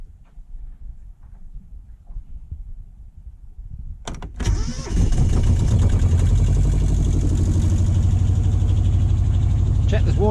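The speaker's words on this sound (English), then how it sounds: "I'm going to start the engine as a safety precaution" Sailboat inboard engine cranking into life after a few seconds of quiet rustling and a sharp clunk, then settling into a loud, steady idle that runs to the end.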